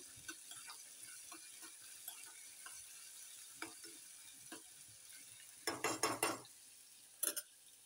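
Onion fries quietly in a pan, a soft sizzle under scattered scrapes and taps of a stirring spoon, building to a short burst of louder clattering stirs near the end; no talking.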